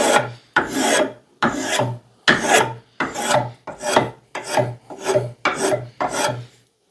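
A Stanley Model 51 spokeshave takes about nine rhythmic strokes across wood, each a close, dry rasping shave followed by a short pause, steady and alone with no talking.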